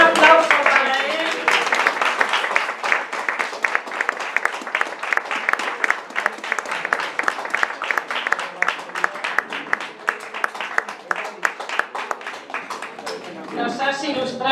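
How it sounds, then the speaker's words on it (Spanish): Audience applauding a lecturer at the close of a poetry-evening talk at the Centro Asturiano: dense, sustained clapping from a seated crowd lasting over ten seconds, with voices rising briefly at the start and end. "Un aplauso para él."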